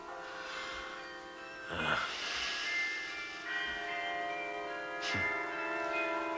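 Church bells ring with sustained, overlapping tones that shimmer and decay, a couple of louder strikes standing out, with faint breathy sounds nearby.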